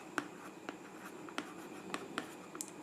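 Pen strokes scratch across paper by hand in a quiet room, a series of short, distinct taps and scrapes spaced irregularly over a few seconds, close and fairly faint, with no voices.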